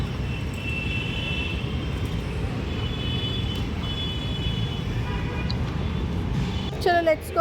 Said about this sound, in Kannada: ಮೆಟ್ರೋನು ಹೋಗ್ತಾ ಇದೆ, ನಮ್ಮ ಬೆಂಗಳೂರು ಮೆಟ್ರೋ ಫೈನ್